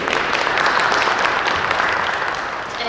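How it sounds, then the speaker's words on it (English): Audience applause for local business agencies on stage at a business resource expo in Plainfield, a steady dense wash of clapping throughout, close and sustained, easing slightly at the end. "a big round of applause for all of our agencies here on stage"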